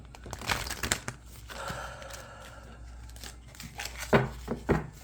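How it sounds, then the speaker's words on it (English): Close-up papery riffling and crinkling of cards being shuffled for a reading, with a few louder snaps and flicks toward the end. "Shuffle them one more time."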